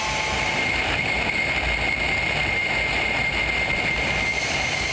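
A military transport plane drones loudly and evenly at about 800 metres and 300 km/h during a mass drop of Belarusian paratroopers, its engine roar and high whine steady throughout, with no voices.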